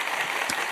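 Applause fills the whole short moment at a steady even level, a dense crowd clapping for a guest being brought on stage to join a band.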